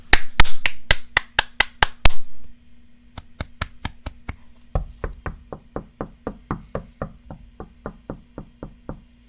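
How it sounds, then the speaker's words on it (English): Hands clapping on a bunk bed, a fast burst of loud sharp slaps, then a steady series of crisp knock-like claps at an even rhythm, close and alone with a faint hum underneath. "I'm clapping my bunk bed."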